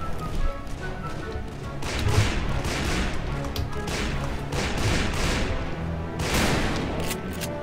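Sustained gunfight in Call of Juarez: Bound in Blood, with dense overlapping rifle and pistol shots, thuds and crashes running continuously and loudly, and a few sharper bursts standing out along the way.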